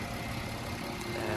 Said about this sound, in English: This is the engine, V6 FSI.